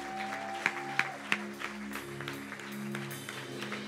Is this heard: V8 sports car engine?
no